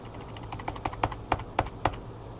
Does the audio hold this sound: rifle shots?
no